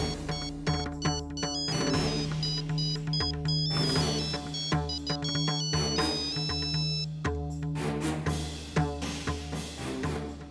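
A phone rings with a melodic electronic ringtone, its repeating musical tones going on steadily and fairly loud for about ten seconds without any speech.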